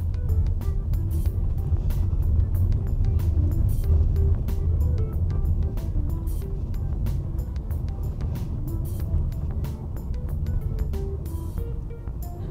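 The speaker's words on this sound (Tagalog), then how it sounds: "next na pansinin natin yung shifting niya sa normal driving" A 2021 Maxus G50 Elite eight-seater with automatic transmission driving on the road, a steady low engine and road rumble inside the cabin with faint ticking, no clear shift jolt standing out.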